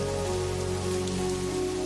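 Steady warm summer rain falls on a surface, a continuous dense patter at even loudness throughout, with no voices and no thunder.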